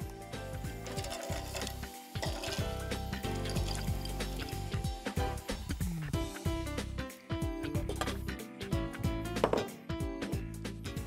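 Green beans tumble and clatter into hot water in a pot, with steady splashing and busy kitchen rattling running throughout.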